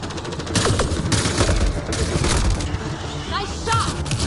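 Gunfire in Mass Effect: Andromeda: rapid, close bursts of shots crackle nearly without pause across the clip, with voices heard faintly among them.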